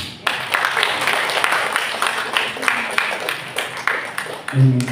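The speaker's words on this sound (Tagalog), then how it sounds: "Ituloy niyo yung palakpak mo." A prayer meeting congregation in Binangonan claps steadily for several seconds, a dense continuous patter of many hands with some voices mixed in, fading as a brief low tone enters at the end.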